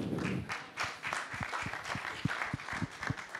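An audience at a Geneva venture pitch event applauds, a dense patter of many hands clapping at moderate distance, steady through the moment with a few sharper individual claps standing out.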